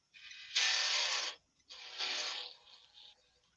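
A sharpened 10 mm spanner cuts a small wooden tenon, probably on a lathe piece, giving two loud rasping, scraping bursts with a gritty, ratchet-like texture and a short tailing scrape, close and with no talk.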